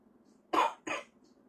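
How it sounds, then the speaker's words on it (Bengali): Two quick, close coughs from one person, the first a bit longer and harsher than the second, in an otherwise quiet room. "কাশি কি যাবে না রে আমার ছেলে"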